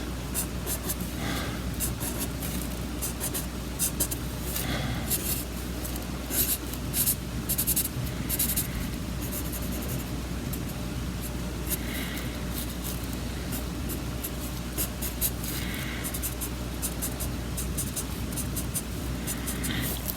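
A marker drawing on paper, with continuous scratchy strokes in irregular bursts close up over a low steady room hum.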